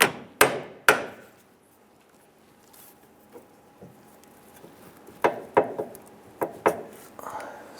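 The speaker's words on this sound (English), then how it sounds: "I'm going to go ahead and tap the coupler area, working that off the upper shaft." Hammer tapping on the steering shaft coupler of a 2005-2010 Chrysler 300 to work it off the upper shaft: a few sharp metallic knocks, a quiet gap, then a quick cluster of close, ringing taps.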